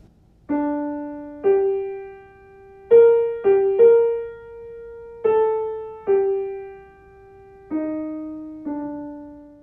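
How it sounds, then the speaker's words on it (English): Amazing Grace played in a minor key on trumpet with piano and bass, a slow, sustained melody of held notes rising and falling in clear phrases, with no voices. "For my piece for Network, I've done something a little different and cast the piece in minor."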